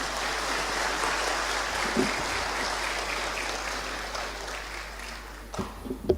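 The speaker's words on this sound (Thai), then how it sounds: "ร่วมกันทุกคนปรบมือครับดังๆครับ" Graduation-ceremony audience in a large auditorium claps together in sustained, dense applause that tapers off near the end, leaving a few scattered claps and thumps.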